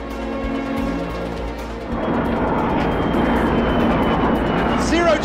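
A zero-gravity parabolic flight aircraft accelerating, its engine roar rising from a steady drone into a louder, broadband rush that fills the cabin, with voices talking over it.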